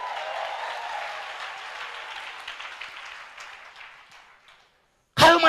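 Congregation applause in a church service, a broad crowd clapping that starts loud and gradually fades to near silence, followed by a sudden loud burst at the very end.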